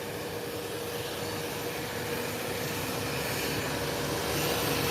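A British Airways Boeing 777 airliner taxiing quickly across the ramp toward the runway, producing a steady, loud broadband jet engine roar that holds constant and swells slightly toward the end, with no voices.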